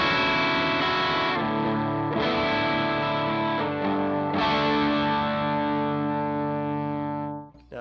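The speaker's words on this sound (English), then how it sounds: "And just hearing the Broken Arrow." Clean guitar chords played through a Jackson Audio Broken Arrow overdrive on its own, a slow sequence of strummed chords sustaining and blending, close and even, ending with a brief fade and string touch.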